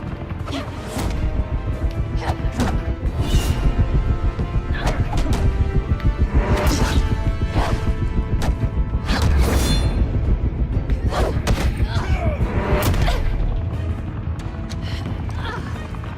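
Hand-to-hand fight between Batman and Catwoman in a Batman video game: a steady barrage of heavy punches, thuds, crashes and swishing whooshes, loud and close, running continuously for about a dozen seconds before easing off.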